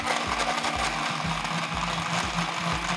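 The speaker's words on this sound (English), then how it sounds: "Pop the lid on and we're going to give it a whiz." Blender whizzing frozen strawberry daiquiri ingredients with hammer-cracked ice, a steady loud motor drone with a rhythmic low pulsing churn as the contents tumble, running continuously throughout.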